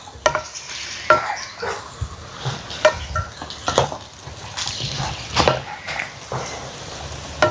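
Chicken being stirred with masala in a hot pan, a steady sizzle broken by repeated scraping strokes of a spoon through the pieces, close and fairly loud, with no talking.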